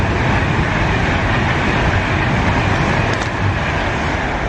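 A fast train roars straight through a station platform, a loud, dense, unbroken rush of wheel and air noise filling the whole stretch without a break.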